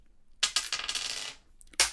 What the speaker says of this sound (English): My dice fell off the table